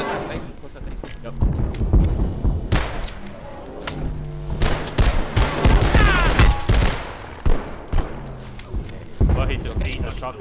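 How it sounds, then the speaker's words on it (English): Gunfire and shotgun blasts in the video game Abiotic Factor, a string of loud close shots with game noise between them, while several people talk over the action. "he just ate a shotgun into the face"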